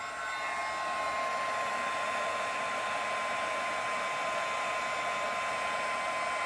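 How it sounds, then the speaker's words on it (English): A heat gun blows steadily over an embossed craft piece, a constant close whooshing fan roar with a faint high whine that holds unchanged throughout, with no voices. "so let's get our heat gun one more time. Blow that off."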